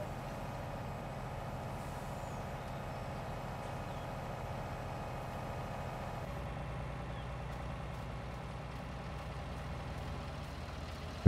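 A vehicle engine in Landwirtschafts-Simulator 19, a farming game, idling as a low, steady hum that shifts slightly partway through, faint and continuous with no talk.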